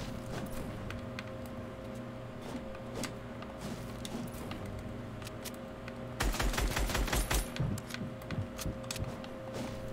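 Fortnite gunfire crackles through steady game background noise, starting as scattered faint shots, then a louder rapid burst of repeated shots in the second half, with no talk.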